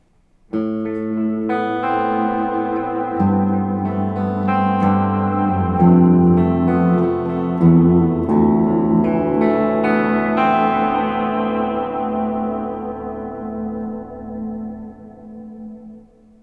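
Sustained guitar chords through a Walrus Audio Lore reverse reverb pedal, swelling and washing together under heavy, smeared reverb, each change blooming into a long ringing tail that fades out at the end.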